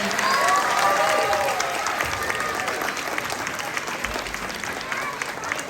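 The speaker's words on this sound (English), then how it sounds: "Give our bunnies a round of applause." Audience at a kindergarten school play of Peter Rabbit applauds the children singers. The clapping is steady and fairly loud, with faint crowd murmur and a few high squeaks over it.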